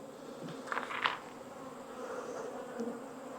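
Honey bees hum around an opened hive being smoked: a low, steady buzzing drone underneath, with a few closer, louder buzzes passing by near the start, and no talking.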